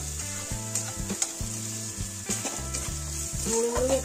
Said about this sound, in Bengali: একটু আদা জিরে বাটা দেবো, এবার চালটা দেবো